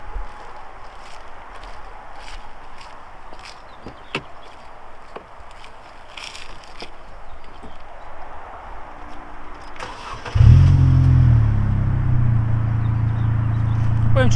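After quiet shuffling and a few clicks, the 1.8 16v Z18XE engine of an Opel Vectra Irmscher cranks and fires up loudly, then settles into a deep, rumbling idle with a slight rev.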